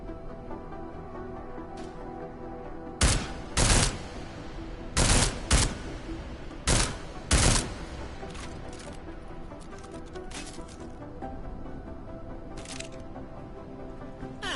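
Suppressed gunfire from a silenced weapon in Deus Ex: Mankind Divided, several separate bursts of muffled, sharp shots spaced across a steady in-game ambient hum, with no talking.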